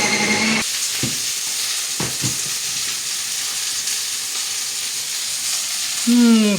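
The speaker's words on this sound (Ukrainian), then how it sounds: "а там смажиться перчик, тут кабачочок з картоплею" Steady sizzling of peppers frying in a pan, a continuous hiss with a few brief clatters near the start and a short tonal squeak at the end.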